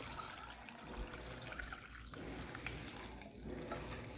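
Hot mint and lavender tea poured from a spouted bowl into a jug, making a steady, close liquid splashing and trickling that runs through the whole stretch, with no voices.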